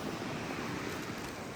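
River water flows steadily on a Vermont stretch of the Appalachian Trail, a soft, even rushing wash that is fairly faint, with no talking.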